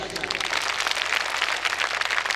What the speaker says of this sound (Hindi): आपके पास दो हाथ है तो जोरदार ताली बजाएं